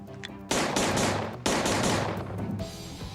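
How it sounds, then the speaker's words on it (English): Scorpion machine gun bursts ring out loud and close, several rapid volleys of cracking shots with sharp onsets and echoing decay. "it can fire single shots, 3-round bursts, or empty its magazine in full auto"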